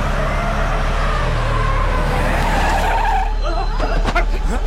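A bus screeches to a hard stop in a Telugu movie scene, a loud, sustained tyre skid that rises in pitch and ends with sharp clattering noise.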